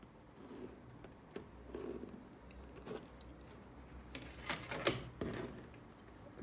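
A sewing machine stitches fabric corners on a bottle gift bag, running in a quiet, faint whirring patter broken by a few sharper clicks and taps.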